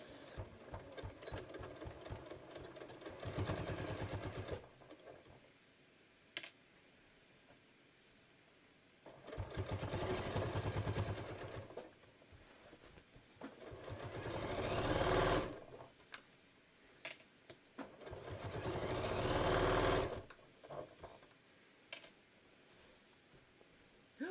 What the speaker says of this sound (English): so I'm going to sew this.